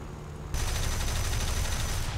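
Cannon fire from a Boomerang tier 4 premium fighter plane in a flight combat video game, breaking in suddenly as a loud, dense, continuous burst of rapid shots that lasts to the end, with no talking.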